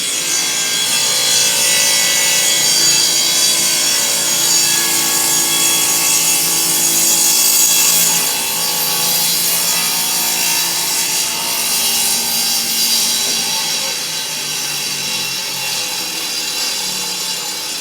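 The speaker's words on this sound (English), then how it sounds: "I figured you'd want to get a shot of me actually using the jig, getting the legs tapered" Table legs cut to a taper on a tapering jig, a loud continuous power-saw whine biting through wood and holding steady throughout the cut with slight dips in pitch.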